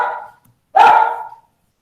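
A small dog gives two close, sharp barks, the second louder and longer, with a brief pause between them.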